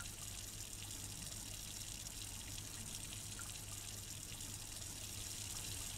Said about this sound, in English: Whoa, hot water. Steam up the mirror.